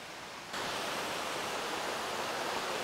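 A river flows down from a waterfall, a steady broad rushing wash of water that swells up close after a quieter start and continues without pause.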